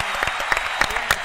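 A short burst of clapping from a small audience at an Arabic dance performance, scattered sharp claps over a light crowd murmur.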